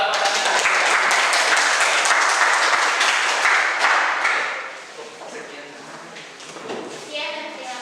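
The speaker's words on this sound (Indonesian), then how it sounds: "Oke, kita beri aplaus kembali buat peserta kita." Audience applause for a participant at a classroom-style session, a dense burst of clapping that fades after about four seconds into lighter scattered claps, with voices talking underneath.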